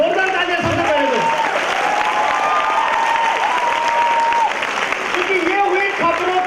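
A crowd at an induction programme applauds steadily for several seconds, dense clapping filling the room, while a voice speaks over it through amplification.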